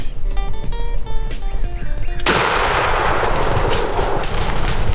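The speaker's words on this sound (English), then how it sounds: "Can you shoot? Yeah, shoot him." A single loud gunshot cracks out abruptly partway through, fired at a wild turkey tom on a public-land woodland bench, following quiet outdoor ambience.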